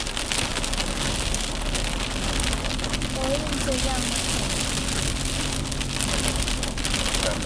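Steady rain pattering on a campsite in the mountains of Khao Yai, a constant dense hiss with scattered drops, continuing unbroken throughout.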